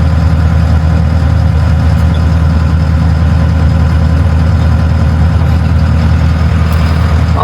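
A tractor engine idles steadily on a cold night, a loud, constant low drone heard from inside the warm cab with no voices over it.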